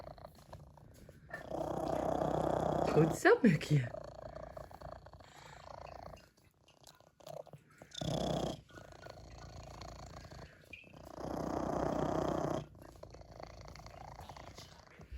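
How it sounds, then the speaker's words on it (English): A cat purrs steadily close by in several rumbling stretches, with brief pauses and a short spoken line partway through. "my favorite one is this one, who is such a purrer. Some sounds for you to enjoy."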